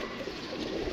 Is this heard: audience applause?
no